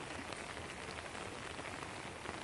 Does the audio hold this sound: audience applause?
no